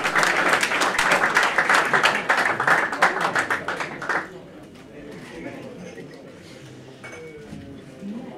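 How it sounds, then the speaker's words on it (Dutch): Applause at a Dutch indoor futsal club award ceremony, a dense burst of many hands clapping for about four seconds, then fading into quieter room murmur and voices. "Applaus."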